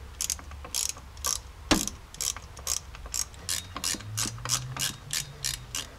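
Ratchet wrench tightening driveshaft bolts on a Jeep during a slip-yoke-eliminator install, a steady run of rapid metallic clicks in short bursts, close and clear with no talking.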